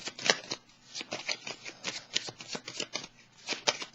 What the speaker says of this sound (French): Je vais piger une petite carte.